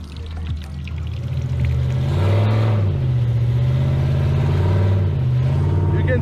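A Jeep engine revving hard as it tries to climb a slick, algae-covered obstacle, with the loud, close engine pitch rising and falling in repeated surges.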